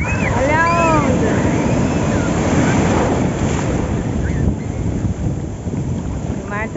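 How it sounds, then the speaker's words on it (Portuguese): Ocean waves roll and break continuously at Garopaba beach in Santa Catarina, loud and close with heavy wind buffeting the microphone, while a person talks over the surf. "E vem a onda. E vem outra onda. Olha a onda."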